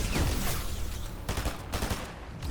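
Gunfire from an AI enemy in a Fortnite Zero Build match, a burst of rapid shots crackling close by at the start, then scattered further volleys with no talking over them.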